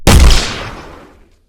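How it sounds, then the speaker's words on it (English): A stock Unreal Engine gunshot sound effect: a single loud, close bang with a sharp attack and a short decaying tail, alone and with no voices. "what we have loaded up here is currently just the Unreal Engine gunshot sound"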